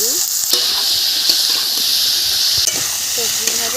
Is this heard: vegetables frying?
yes